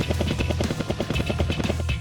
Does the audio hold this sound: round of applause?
no